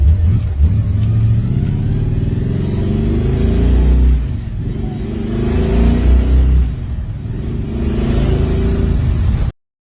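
A yellow 1978 Pinto delivery sedan hot rod with a full roller 383 Chevy stroker motor and gear drive revs loudly and close, a steady deep roar that swells and dips before cutting off abruptly.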